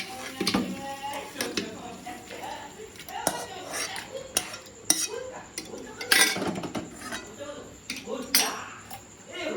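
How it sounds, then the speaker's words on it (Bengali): Mutton chunks clatter into a metal pressure cooker during home cooking of a red mutton curry: irregular clinks and knocks of metal and pieces, close and fairly quiet. "এই যে আমাদের মাংসটা প্রেসারে দেওয়া হচ্ছে"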